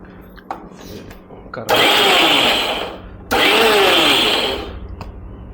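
Kitchen mixer grinder crushing coconut in two short bursts, each a loud, harsh whirring grind lasting a second or two, separated by a brief pause.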